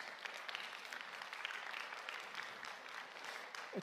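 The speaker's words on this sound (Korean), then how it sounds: "우리 박수 한번 보내주시겠습니까?" A church congregation applauds, a dense steady patter of many hands clapping that fills the room and carries on evenly throughout.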